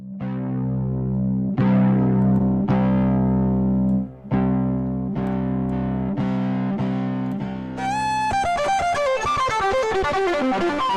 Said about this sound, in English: The first one is the overdrive. It is a slight saturation of the input signal.